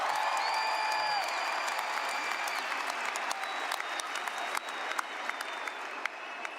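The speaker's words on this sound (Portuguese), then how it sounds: "uma salva de palmas para Jesus" Audience at a Catholic faith event claps in a steady round of applause, moderately loud throughout, with faint tonal sounds in the background and a few louder individual claps near the end.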